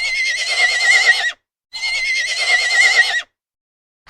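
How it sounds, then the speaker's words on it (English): A horse gives two long, shrill whinnies one after the other, each about a second and a half with a brief silence between, loud and close. "Horse."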